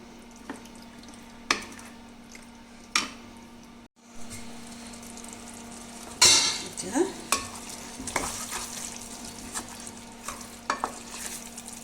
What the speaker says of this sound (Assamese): এই দি মই 5 মিনিট ভাজিম।